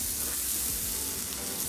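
Mushrooms and onions sizzle in a pan with a steady, fairly quiet hiss and faint crackle, heard close and alone.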